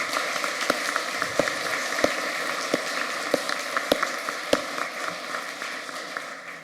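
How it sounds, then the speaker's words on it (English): Audience applause at an evening MRCPI ceremony, a dense steady wash of many hands clapping in a large hall, sustained throughout with a few sharper individual claps standing out. "we'll have our first round of applause of the evening."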